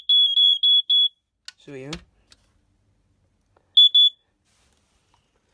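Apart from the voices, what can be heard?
Family Gard 83R smoke alarm being tested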